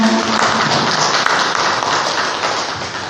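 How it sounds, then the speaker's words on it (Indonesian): A gathered audience of teachers and parents at a school session gives loud, dense, continuous applause, sustained close and even throughout. "beri tepuk tangan untuk kita semua"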